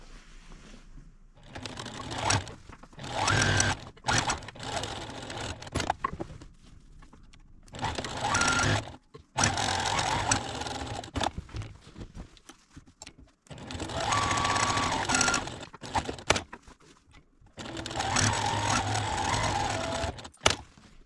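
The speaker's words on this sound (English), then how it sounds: "Let's sew a double seam across the bottom" A sewing machine stitches a double seam across the bottom of a fabric garment bag, running in several loud rapid whirring bursts of a few seconds each, separated by quiet pauses.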